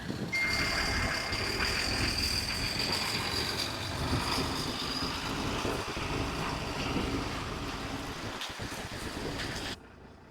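A truck idles and moves off in rain, its engine rumbling steadily under a broad wash of noise while a reversing beeper sounds, the noise dropping away abruptly near the end.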